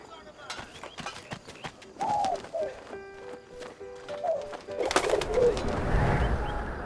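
A pigeon coos in the video game 11-11: Memories Retold, with soft low coos in a busy game scene where other sounds and voice-like noises build up toward the end.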